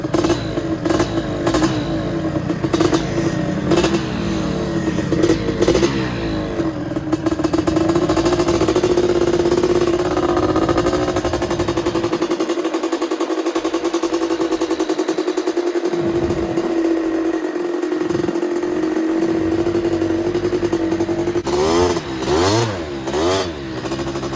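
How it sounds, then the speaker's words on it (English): Honda 250R quad racer engine revving hard on sand dunes, a loud sustained two-stroke drone with repeated throttle blips at the start and end, close by and without talk. "This is the nicest quad racer I might have ever seen."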